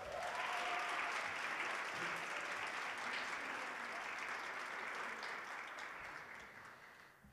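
A crowd claps enthusiastically in sustained applause at a school awards ceremony, holding steady, then gradually fading toward the end.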